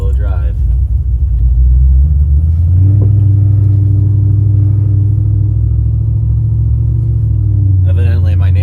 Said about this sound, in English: The car's just a little loud, as you can tell.